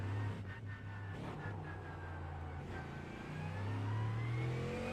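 A Mustang GT3 race car engine in the iRacing sim holds a steady mid-range drone with rising harmonic whine, swelling louder toward the end without a break.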